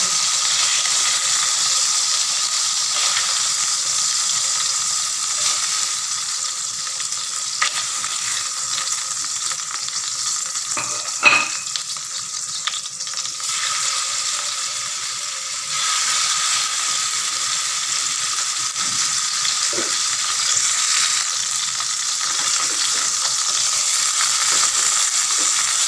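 Chicken breast frying and browning in a pan for a creamy garlic mushroom dish gives a steady, close sizzle with a few sharp clicks and pops near the middle and no talking.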